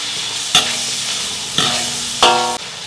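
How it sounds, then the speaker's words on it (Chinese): Scallion, ginger, garlic and a spoonful of chili bean paste frying in hot oil in a wok, with three sharp spatula scrapes breaking over a steady close sizzle; no one speaks. "锅中加油，葱姜蒜爆香，1勺豆瓣酱，2块大红袍，"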